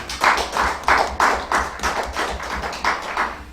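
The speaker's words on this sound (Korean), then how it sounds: "우리에게 은혜 주신 하나님께 영광의 박수 올려드리겠습니다." A church congregation at Sunday worship claps in rhythmic bursts, about eight strong rounds of clapping at a steady beat, close and moderately loud.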